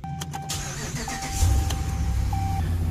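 A 2013-19 Dodge Ram 1500 with about 179,000 km, fresh spark plugs and ignition coils, cranks and fires up close by, then settles into a steady idle while a dashboard chime tone sounds intermittently.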